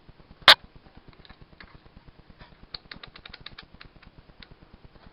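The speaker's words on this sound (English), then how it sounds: "I can hear it clicking." A Koldfront dishwasher under repair clicks from inside in a quick, regular stream of small ticks, with one sharp louder snap near the start and brighter clicks clustering later.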